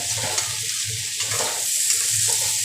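Okra and spices fry in a pan with a steady sizzling hiss, broken by soft rhythmic scraping as they are stirred.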